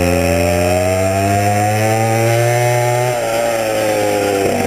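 Loud Go Ped small two-stroke engine with a buzzing exhaust, sustained high-pitched drone passing close by a brick wall, pitch dropping slightly midway, no talk.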